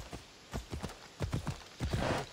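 Horse hooves clip-clopping in a video game, arriving in uneven bursts of quick thuds at moderate volume with no talk over them.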